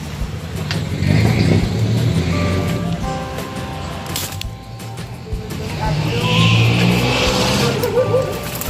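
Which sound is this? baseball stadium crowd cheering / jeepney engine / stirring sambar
jeepney engine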